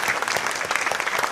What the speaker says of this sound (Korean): 우리 박수로 우리 환영하고 축하하겠습니다